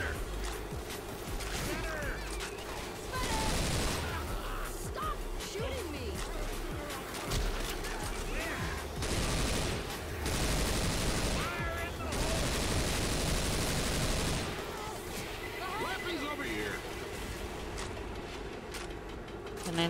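Frequent automatic gunfire bursts and clattering weapon sounds in a shooter video game, dense and loud throughout, with players talking over the action.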